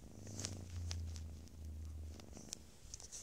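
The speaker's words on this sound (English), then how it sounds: "Guys, she's purring." A pet cat purrs close up in a steady low rumble, with a few small rustles and clicks around it and no talking.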